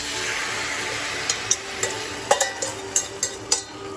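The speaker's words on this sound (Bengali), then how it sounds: "এবার পাস্তাটা হালকা আমি একটু ভাজবো" Pasta being lightly fried in a pan at home, giving a steady close sizzle with a series of sharp stirring clacks and scrapes in the second half, no voices.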